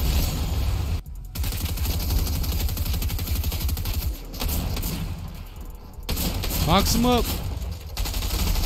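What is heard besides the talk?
sniper gunfire in the video game Fortnite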